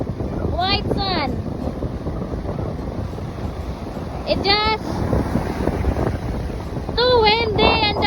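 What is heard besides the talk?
strong wind at a Miami beach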